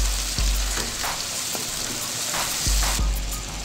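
Mutton cooking in yogurt in a pot gives a steady, fairly loud sizzle, broken by several sharp clanks and scrapes as the mixture is stirred. No one speaks.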